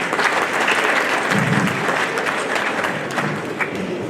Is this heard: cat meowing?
no